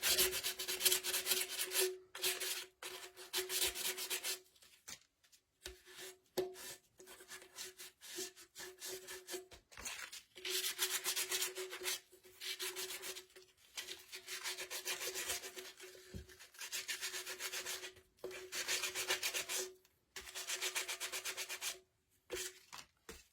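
Hand sanding of painted Dollar Tree candle holders, steady rhythmic rasping strokes in repeated bursts with short pauses, close and clear, no talking.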